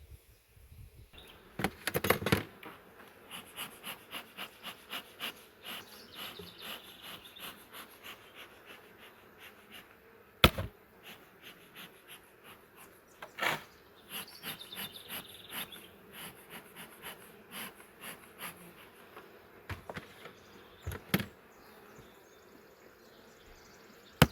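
Honey bees buzz steadily at a brood inspection among the hives, a soft continuous drone with sharp clicks and knocks of handling scattered throughout.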